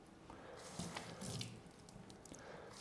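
Frozen loaf of bread held under a running kitchen tap, the water splashing steadily over the crust at close range for the whole stretch, with a few louder gushes as the bread is turned.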